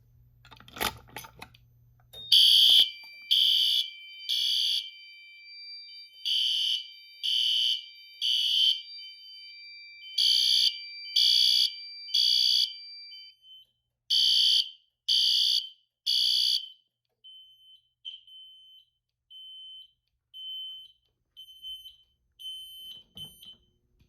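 A Notifier fire alarm system under test gives loud, high electronic horn blasts in groups of three, each group separated by short gaps, in a quiet room with no talking.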